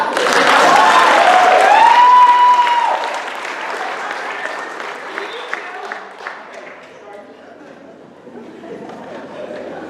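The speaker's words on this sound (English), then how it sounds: "Puppy raisers, come on, clap." Applause and cheering from the audience at a guide dog graduation ceremony, loud at first with a whoop, then settling into steadier clapping that thins out and grows fainter toward the end.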